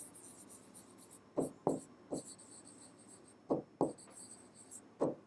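Pen strokes scratching out a maths solution on paper or board in a Class 12 NCERT integration lesson, arriving as short rubbing bursts, two close together, then a pause, repeated, faint and near with no talk.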